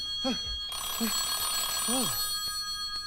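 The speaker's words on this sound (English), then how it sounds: "The phone. Must answer the phone." A telephone bell rings in an animated story with a Peter Parker character, a bright sustained ringing over low background, while a voice makes sleepy drawn-out sounds between the rings.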